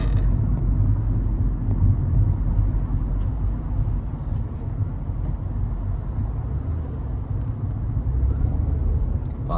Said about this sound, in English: A lot of traffic now.